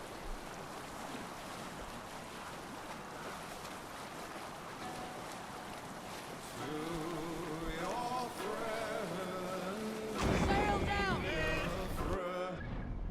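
A Viking longship sails across open water in Assassin's Creed Valhalla, with steady wind and wash of waves, while voices and tonal game sounds rise over it in the later part.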